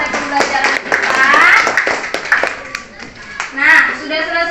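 Children in a classroom clap their hands together in a burst of rapid, uneven claps, with lively chatter and voices running underneath the applause throughout.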